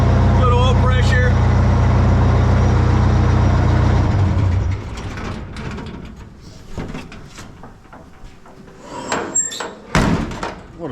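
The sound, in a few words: race truck engine idling after warm-up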